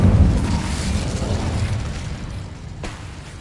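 Casting the Incendio fire spell in Hogwarts Legacy produces a loud booming whoosh of flame that slowly fades, followed by a short sharp crack near the end.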